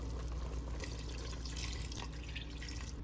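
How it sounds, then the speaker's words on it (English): Water poured steadily into a pot of browning beef for a one-pot stew, a continuous close splashing rush with faint dripping and no talking. "Here goes the water."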